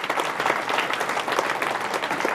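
Audience applause at a cabaret show in Krynica-Zdrój, a dense, steady burst of many hands clapping at once, lively and sustained throughout.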